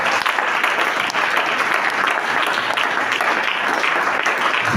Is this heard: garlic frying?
no